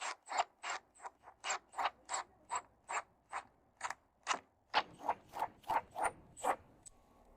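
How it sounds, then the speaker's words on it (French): Screws being driven through a 2x4 into an outdoor kitchen cabinet, a rapid regular train of ratcheting clicks from the driver, close and crisp, pausing briefly midway, with no talking. "je peux simplement visser à travers ce 2/4 dans l'armoire"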